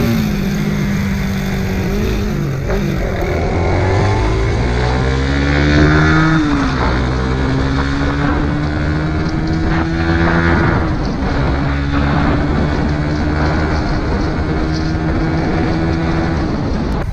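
A Honda Click scooter ridden at high speed on a long group ride drones steadily, its engine pitch rising and dipping with throttle changes. Wind rushes loudly past the rider.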